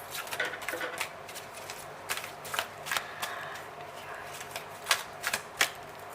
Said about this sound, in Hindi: कार्ड से शफल नहीं हो रहे प्रॉपर